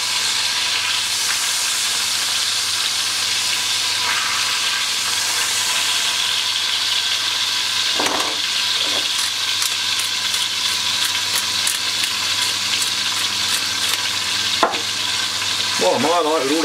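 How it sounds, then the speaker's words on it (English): Beef sizzles and fries in a cast iron dish with a loud, steady, hissing crackle that fills the whole stretch, close by, broken by a few brief clinks and scrapes of stirring. "Love hearing that sizzle."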